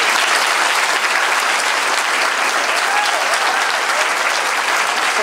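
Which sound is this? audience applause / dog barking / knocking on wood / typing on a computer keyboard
audience applause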